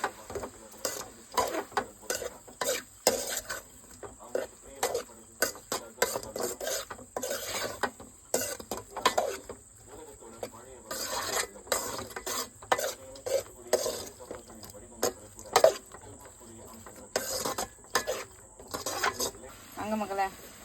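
Fish sautéing in a pan is stirred over and over, making close, rhythmic scraping and rubbing strokes with a faint sizzle underneath.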